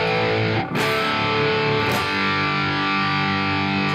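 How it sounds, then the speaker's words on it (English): Electric guitar played through a Line 6 POD amp modeler with a cabinet, heavily distorted with reverb, sustained chords ringing loud and close with two brief restrikes, no voices. "this is the Line 6 pod with this cabinet"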